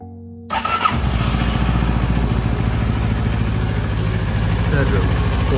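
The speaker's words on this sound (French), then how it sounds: "On met le moteur en route." A CFMoto 700 MT adventure motorcycle fires up after a battery change, the starter catching almost at once before the engine settles into a steady, throbbing idle close by, with a voice talking over it.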